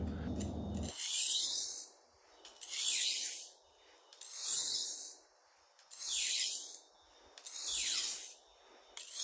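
A knife edge drawn across a 400 grit whetstone in five slow, even strokes, each a close, bright rasping scrape separated by brief pauses.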